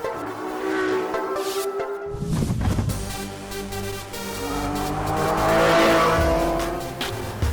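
A Maserati MC12 road-version Le Mans car roars close by, its engine rising and falling through loud revs with a sharp surge partway through and a sustained high-pitched drone toward the end.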